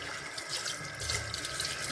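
Food is rinsed under a running tap at a home kitchen sink, a steady close splashing stream of water filling and sloshing, rising slightly louder toward the end.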